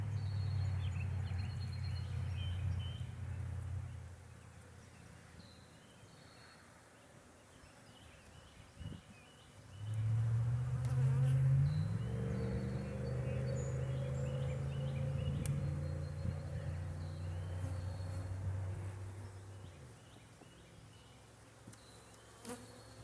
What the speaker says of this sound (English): Good bee population, very good bee population.